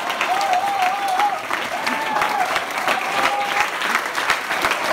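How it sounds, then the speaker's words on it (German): Audience applause for a couple at a staged show, a dense steady clapping that runs loud and unbroken throughout, with whistle-like tones drifting over the crowd noise. "Applaus für unser liebes Pärchen."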